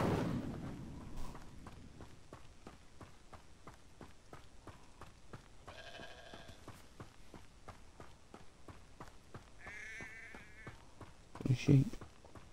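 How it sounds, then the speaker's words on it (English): Sheep bleat in the video game Hogwarts Legacy, with a few short, mid-loud bleats standing out over steady rhythmic footsteps. A louder burst comes near the end. "The sheep."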